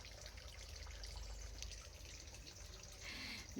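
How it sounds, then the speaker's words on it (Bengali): Water running from a tap near a small hut, a steady, soft broadband wash that stays even throughout, faint and continuous with no talk over it. "জলের আওয়াজ হচ্ছে"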